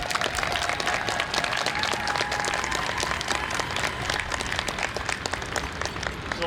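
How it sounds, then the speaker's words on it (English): A high school graduation crowd applauds honored family members, with continuous even clapping filling the space throughout. "If we can please give them a round of applause."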